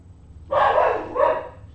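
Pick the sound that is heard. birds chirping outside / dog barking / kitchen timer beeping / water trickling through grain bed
dog barking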